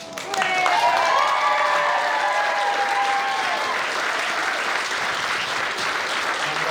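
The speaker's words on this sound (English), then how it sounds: "A massive round of applause for the stars of the show." A wedding crowd bursts into loud, sustained applause that stays dense and steady, with cheering and whoops rising over the clapping.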